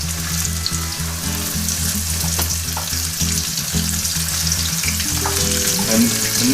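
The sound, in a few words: alligator ribs frying in vegetable oil in a frying pan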